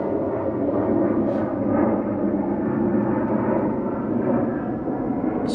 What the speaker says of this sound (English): Excuse the plane noise.